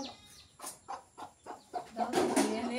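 Village chickens clucking in short separate bursts, faint and a little distant, building to a louder, busier squawk near the end, with no voices over them.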